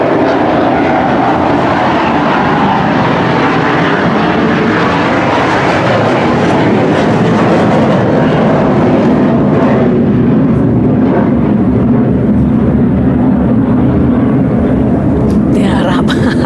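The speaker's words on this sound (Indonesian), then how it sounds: "Tunggu dulu, pesawat." An airplane passing overhead, a loud continuous engine drone that holds steady and then fades, heard under people talking.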